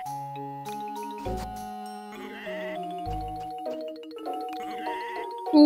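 Sheep bleat a few times in the farming game Harvest Moon: Mein Inselparadies, the cries set against a cheerful tinkling melody with bells, fairly loud and without talk.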